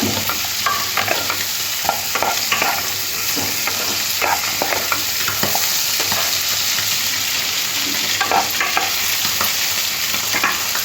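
Vegetables and spices stir-fried in a pan for a tangra fish curry, with a steady loud sizzle and repeated scraping stirs of a spatula throughout, no voices.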